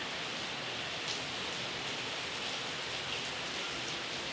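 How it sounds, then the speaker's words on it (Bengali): Steady rain falls outside in a rural village in the evening, an even, dense hiss with faint scattered drops, constant throughout and with no voices. "দেখুন কি বৃষ্টি আমাদের এখানে বৃষ্টি হচ্ছে"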